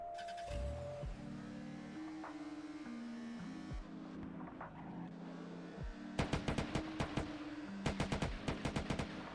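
A rapid burst of gunfire in GTA, sharp repeated shots cracking over a steady engine drone and background music, loud and close.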